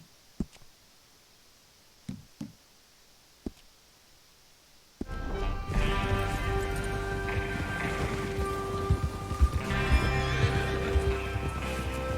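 In a video game, a few sharp hoof clicks in near silence, then a dense, loud burst of galloping hooves and horse whinnies over a swelling musical backdrop.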